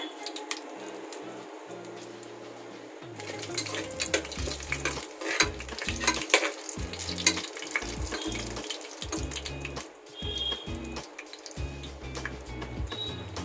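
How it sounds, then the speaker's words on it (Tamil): Cardamom, cloves, cumin, fennel seeds and cashews stirred in a pan for tomato rice, with steady scraping and faint sizzling in an irregular rhythm, close and moderately loud, with no voices. "3 ஏலக்காய், 3 கிராம்பு, ஜீரகம், பெருஞ்சீரகமும், அப்புறம் முந்திரி எல்லாத்தையும் சேர்த்து நல்லா கலந்து விட்டுருங்க."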